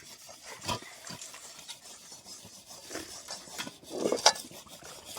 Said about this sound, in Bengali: এই যে কড়াই ভিজিয়ে দিলাম ভিজিয়ে মেজে নিয়ে থাকলো